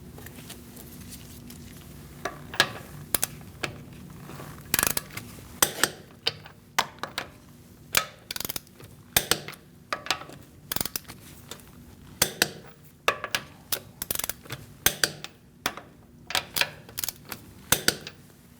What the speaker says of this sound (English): We're going to torque our wheel to 96 foot-pounds.